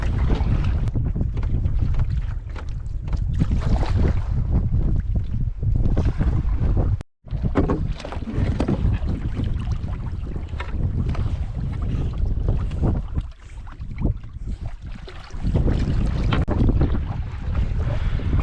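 Canoe crossing a pond on a solo wilderness trip with dogs aboard, wind rushing steadily across the microphone over lapping water and faint paddle strokes, one brief dropout midway, no talk.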